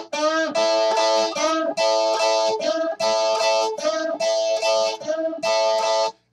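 Electric guitar plays a double-stop lick, two strings pinched and struck together in a series of bright, repeated bursts with short gaps between phrases, loud and alone.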